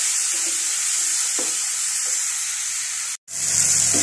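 Sardines and bottle gourd sautéing in a home pan give off a steady, fairly loud sizzle and hiss that runs nearly unbroken, with a brief cut near the end before the frying picks back up.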